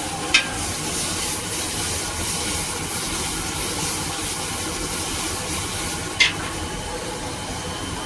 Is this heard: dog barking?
no